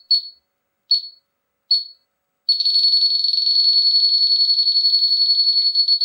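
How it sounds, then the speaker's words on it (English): Elitech LD-200 refrigerant halogen gas leak detector sounding three short spaced beeps, then switching to a loud continuous rapid-pulsing alarm siren, close and alone. "When a leak is detected, a siren will be sounded with a rate quite different from the previous beeping sound"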